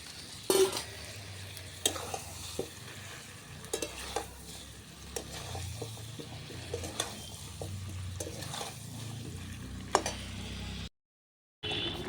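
Potatoes and peas being stirred and fried in a pan, a soft sizzle under repeated scraping and clinking of a spatula, close and moderately quiet, ending with a short moment of silence.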